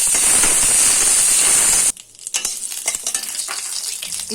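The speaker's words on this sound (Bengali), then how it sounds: "2 চামচ কলাইয়ের ডাল, আর দিয়ে দেব কারি পাতা।" Urad dal and curry leaves hit hot oil for a coconut chutney tempering, giving a loud, dense sizzle that cuts off sharply partway through and gives way to quieter, scattered crackles and stirring.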